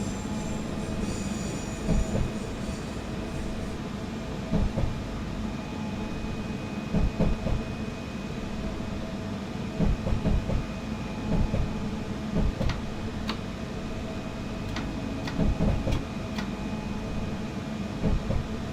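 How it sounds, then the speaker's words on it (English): A simulated train in the game SimRail rolls along at a steady pace with a low continuous rumble and regular clacking of wheels over rail joints, with occasional squeals. "This is a Nambour train, stopping at stations."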